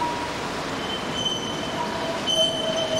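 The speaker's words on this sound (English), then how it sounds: "The new trams run along Hay Street," A new, quieter tram rumbles steadily along the rails on Hay Street in Sydney, with faint metallic squeals and hums.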